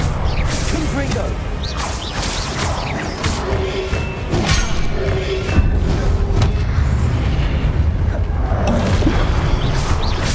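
Confringo fire spell blasts in the video game Hogwarts Legacy during Percival Rackham's Trial, heard as dense rumbling booms and whooshing impacts within continuous loud combat noise.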